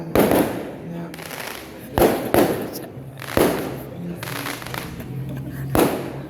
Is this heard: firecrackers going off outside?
yes